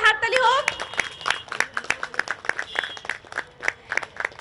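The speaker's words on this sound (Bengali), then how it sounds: "একবার জোরে হাততালি হোক।" Audience at a Durga Puja prize ceremony claps steadily for several seconds, a moderate scattered applause that follows a brief announcing voice at the outset.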